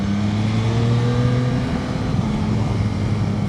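Engine of a 2025 Yamaha Tracer 9 GT with the Y-AMT automated gearbox, a steady, loud drone with strong low harmonics, pitch holding fairly level then shifting slightly, continuous for the whole stretch without speech.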